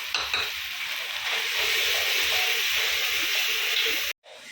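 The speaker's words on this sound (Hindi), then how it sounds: "पूरे मसाले डालेंगे और अच्छे से भुनेंगे इसको। वापस 5 मिनट तक भुनेंगे।" Whole spices roasting in hot oil for a spiced lentil dal, giving a steady close sizzle with faint stirring scrapes that runs continuously before cutting off abruptly near the end.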